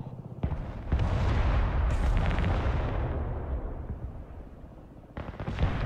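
Artillery fire in the Broken Arrow video game: a heavy boom followed by a long rolling rumble that slowly fades, then another sharp blast near the end, loud and close.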